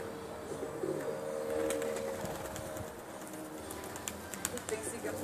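Pigeons in a loft coo softly and repeatedly at a distance, faint under a low hum, while people talk nearby.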